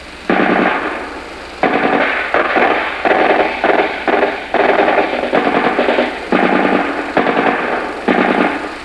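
A machine gun fires repeated rapid bursts at an enemy bunker during a combat patrol raid, loud and close, each burst a clattering rattle separated by short pauses.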